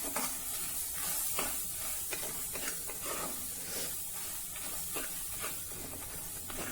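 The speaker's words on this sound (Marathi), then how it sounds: "आता यामध्ये पंपकिन सीड म्हणजेच भोपळ्याच्या बिया घालूया। या बिया देखील भाजून घेऊया।" Pumpkin seeds dry roasting over a low flame in a pan and being stirred, giving a steady, close run of rhythmic scraping and rustling strokes with a faint hiss underneath and no talking.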